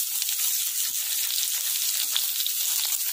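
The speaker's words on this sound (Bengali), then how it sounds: "পেঁয়াজ আর আলুটাকে একসাথে লাল করে নেব।" Two medium onions and potatoes frying together in a pan give a loud, dense, continuous sizzle with fine crackling, close up and steady throughout, with no voices.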